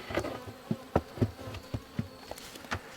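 Honeybees buzz around an open, well-populated beehive. A close, soft droning hum is punctuated by repeated light taps and clicks.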